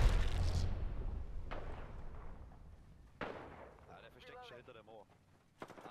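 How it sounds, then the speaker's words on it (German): Grenade blasts in the Apex Legends battle royale game, with a loud booming burst at the start followed by two more sharp detonations that fade into rumble, with a brief voice in between. "Granate aufpassen."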